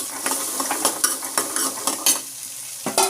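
Onions with turmeric and spices fry in a pan as a spoon stirs, giving a close sizzle punctuated by rhythmic scraping and clinking strokes roughly every half second.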